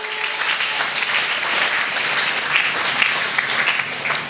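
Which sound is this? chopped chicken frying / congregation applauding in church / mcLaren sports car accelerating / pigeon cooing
congregation applauding in church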